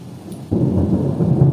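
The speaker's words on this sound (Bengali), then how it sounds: "আর কি বৃষ্টি হচ্ছে আমাদের এদিকে, প্রচুর বৃষ্টি হচ্ছে, প্রচুর, এই রাতের বেলায়" Thunder and heavy rain on a late night, a quiet patter of rain that suddenly swells into a loud, low rumbling roar of thunder over the downpour.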